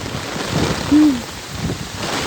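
Heavy rain pours steadily in Pampanga, a dense hiss that swells slightly midway, where a short tonal hoot-like sound rises briefly above the downpour.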